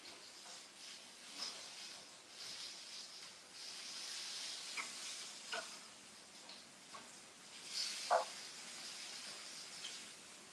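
Vegan fried chicken fries in oil with a soft, steady hiss and sizzle, dotted with faint pops and a few sharper crackles, fairly quiet throughout.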